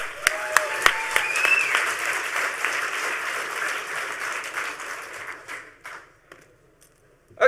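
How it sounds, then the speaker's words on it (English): Applause from a conference audience at the HOPE hacker conference, steady and fairly loud with a few sharp claps and a whistle early, fading out toward the end. "Huge round of applause this time."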